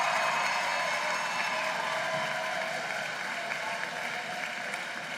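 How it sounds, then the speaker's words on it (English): Sustained, dense applause from a large crowd of graduates at a law school commencement ceremony, steady and fairly loud throughout without a break. "Graduates, if you would please give a round of applause to your parents, your family, your friends who are here that have supported you."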